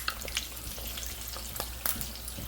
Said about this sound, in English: with your spatula, baste the eggs with the fat